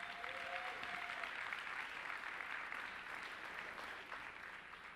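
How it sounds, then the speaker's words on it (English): Audience applause for guests at a Wyoming High School gathering, a steady dense wash of many hands clapping for the full five seconds at moderate, fairly distant level, with a brief faint tone near the start. "Let's give another round of applause to our guests"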